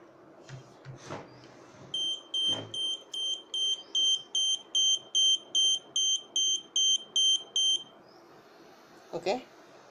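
Buzzer alarm of an Arduino Uno R3 overhead-tank water level detector, a loud run of about fourteen evenly spaced electronic beeps lasting several seconds, with a few knocks and handling bumps around it and no talking.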